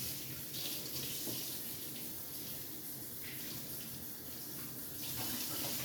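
Tap water running steadily to rinse out cider bottles after an OxyClean soak, a loud close continuous gushing splash into a sink, no talking.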